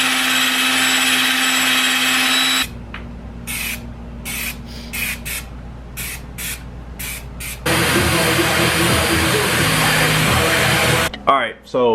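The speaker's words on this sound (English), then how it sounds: "let's go ahead and get a wire brush on that" Power wire brush scouring the rear axle of a 1968 Firebird, a loud steady whine in two long bursts broken by short intermittent touches between them.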